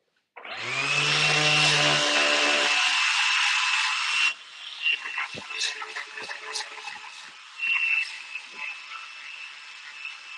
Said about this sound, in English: Just gonna sand all those down real quick.